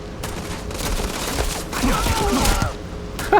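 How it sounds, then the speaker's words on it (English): Video game gunfire rattles off in bursts as shots go through a fence, steady and fairly loud across the moment with a voice speaking faintly underneath. "So I am shooting through the fence."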